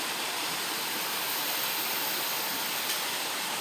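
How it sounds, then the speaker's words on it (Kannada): Waterfall pouring steadily in the rain, a broad continuous rushing roar with no breaks, close and even, with no voices. "ಈ ಫಾಲ್ಸ್ ಅಂತೂ ತುಂಬ ಚಂದ ಉಂಟು ಗೈಸ್ ನೋಡ್ಲಿಕ್ಕೆ."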